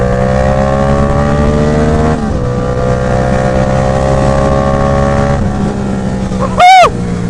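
A Yamaha MT-07 motorcycle engine pulls hard and steadily under loud wind rush, recorded close from on board. The drone dips briefly at two gear changes, and a short high chirp comes near the end.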